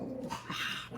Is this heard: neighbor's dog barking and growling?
yes